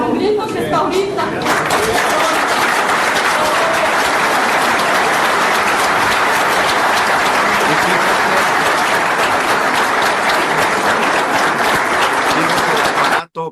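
Sustained audience applause at a public event in Mexico where a woman from Juárez addressed the president, dense loud clapping that begins after a moment of voices and continues unbroken, cutting off at the end.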